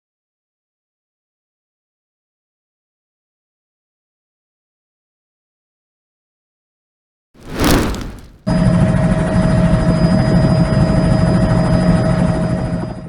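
Silence, then a burst of noise and a loud, steady Bell 206B3 Jet Ranger helicopter engine and rotor roar that continues to the end, with a spoken voice faintly over it.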